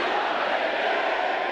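Navy recruits at a Recruit Training Command graduation shouting hooyah in unison, a dense, loud, sustained mass of voices filling the space without a break.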